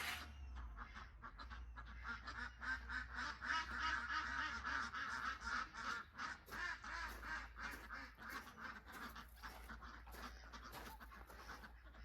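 Many ducks quack continuously in a noisy, overlapping chorus, close by, with a steady low rumble underneath.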